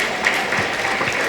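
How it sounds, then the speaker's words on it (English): Students applauding in a college life-skills session, a short, even burst of crowd clapping that fills the moment without any talk. "Can we have a huge round of applause?"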